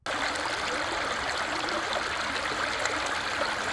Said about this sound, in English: With this babbling brook behind me